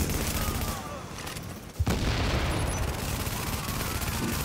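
Automatic turret gunfire in The Division's Dark Zone, a dense continuous rattle of shots with booms layered throughout, one sharp blast standing out near the middle, loud and busy over faint game noise.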